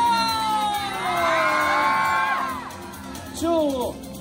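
Crowd at a streetwear store opening ceremony screaming and cheering after a countdown, with loud sustained shrieks and whoops, a brief dip, then another burst of high yelling.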